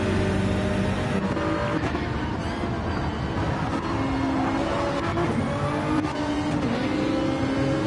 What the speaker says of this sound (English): Look at that, so early full throttle.